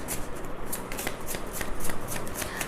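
Tarot cards being shuffled by hand, a dense run of crisp riffling flutters close up, steady and unbroken for a few seconds with no talk.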